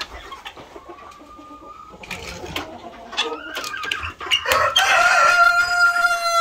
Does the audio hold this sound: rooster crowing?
yes